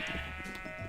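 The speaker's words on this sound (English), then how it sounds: "in the morning, I'm going to bring over all of those sheep" Sheep in the video game Minecraft give a brief, faint bleat against a steady background hum, with no voices.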